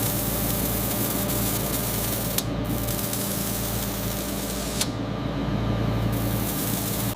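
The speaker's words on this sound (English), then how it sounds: "the freshly dyed fox leather pieces pass through a pressure-controlled rinse" Pressure-controlled water rinse sprays over freshly dyed fox leather pieces in a leather factory, a loud continuous hiss of spray with a couple of sharp mechanical clicks and short breaks in the flow, no talk.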